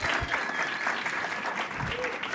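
Audience applause at a Black Tech Mecca event in Chicago, a dense, sustained wash of many hands clapping at moderate distance, filling the whole moment with faint voice traces underneath.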